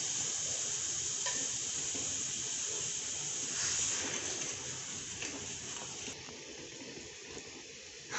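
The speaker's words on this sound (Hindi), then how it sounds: "हमारा दूध बॉयल होना शुरू हो गया है" Milk for custard heats in a pot as it begins to boil, a quiet steady hiss and gentle bubbling with faint stirring, fading slightly toward the end before a brief knock.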